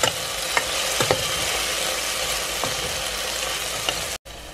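Crushed tomatoes cooking down into a paste in a pot for pork sinigang, a continuous close frying hiss with a few sharp stirring scrapes and taps, briefly cut out near the end.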